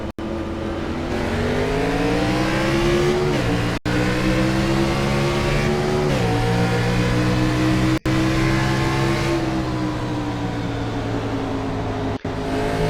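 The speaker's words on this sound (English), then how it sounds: "Hearing those engines rev up." Several race car engines from a racing video game set at Richmond, including a State Trooper Camaro, drone and rev together in loud, layered harmonic tones that rise and fall, with throttle blips and brief cuts, no talking.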